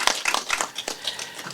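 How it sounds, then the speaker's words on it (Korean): A small audience claps at an outdoor poetry-reading busking event by the Yeosu night sea, with a brief, uneven patter of close hand claps that thins out quickly. "박수 한번 치세요"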